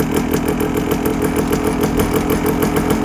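A Honda MT250 Elsinore two-stroke motorcycle idling on choke, a loud, close, steady rapid putter with an even pulsing beat throughout.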